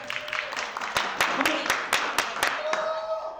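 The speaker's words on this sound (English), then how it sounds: "let's clap it up with another human being" A small group claps in a loose burst of about a dozen sharp claps, close by, with a faint tone and murmur underneath.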